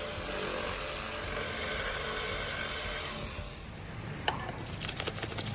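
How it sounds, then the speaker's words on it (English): A power tool cuts a board into a marked shape with a steady, close, rough grinding whir. It eases off partway through and gives way to lighter scraping and clicking. "Here we are cutting our board into the shape as we just marked."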